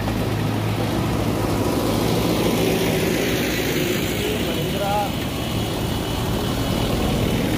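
A Mahindra tractor engine runs nearby with a continuous, even low rumble and droning hum that holds steady for the whole stretch, with faint voices mixed in.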